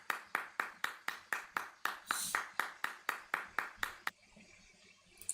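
A rapid run of about fourteen sharp, evenly spaced claps from the video game's "Sus Clap" effect, loud and close with no talk over them, ending abruptly and leaving a faint hiss behind.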